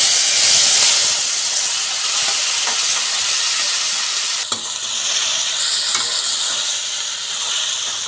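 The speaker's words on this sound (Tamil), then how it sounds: "எண்ணெய் சூடான உடனே 2 வரமிளகாய், கொஞ்சம் கருவேப்பிலை இலைகள், ஒரு 1/2 ஸ்பூன் தனி மிளகாய் தூள் போட்டுட்டு நம்ம கறியை உள்ளே சேர்த்துடலாம்" Country chicken hits hot oil with dried red chillies, curry leaves and chilli powder, giving a loud, continuous close sizzle and hiss with light stirring scrapes and no talking.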